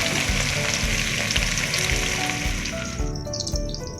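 Breaded pork tonkatsu fries in hot oil with a loud, steady, close sizzle that hisses continuously and eases slightly near the end.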